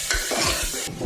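Soya chunks with garam masala and chili powder fry in hot oil for biryani, a constant close sizzle with scraping stirring strokes and light clinks of a utensil against the pan.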